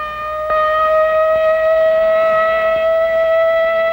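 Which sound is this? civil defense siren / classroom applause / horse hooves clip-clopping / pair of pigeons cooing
civil defense siren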